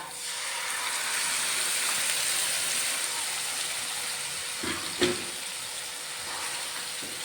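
Spice powders with ginger and garlic are sautéed in hot oil for mango pickle, giving a steady, close hiss of sizzling throughout, with a brief scrape of stirring midway and no talking.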